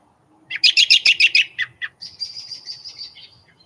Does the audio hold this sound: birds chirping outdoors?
yes